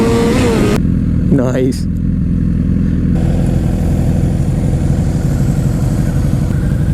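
A 2006 Suzuki GSX-R 750 sport bike engine runs steadily and loudly throughout, a continuous mid-pitched drone with a brief rising rev near the start, heard from the rider's position with a short spoken remark over it.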